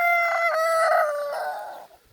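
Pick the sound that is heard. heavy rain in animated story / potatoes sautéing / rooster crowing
rooster crowing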